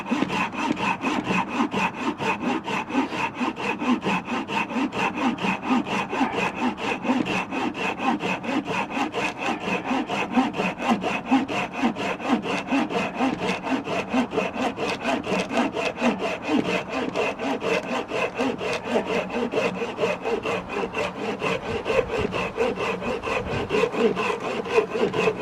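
A hand saw cuts through poplar wood using full strokes, producing a rapid, regular back-and-forth rasp that continues steadily and close by with no talking.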